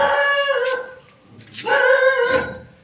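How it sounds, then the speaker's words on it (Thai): A dog barking and howling nearby on a farm where a secondhand rice harvester sits, two drawn-out, wavering cries with a short pause between them, loud and close. "หมาก็เห่า"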